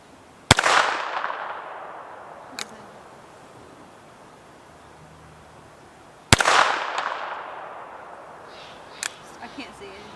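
A .22 NAA Mini Revolver fires outdoors, giving two sharp, loud shots about six seconds apart. Each shot leaves a long echoing tail across open ground, and there are a few faint clicks and taps between the shots.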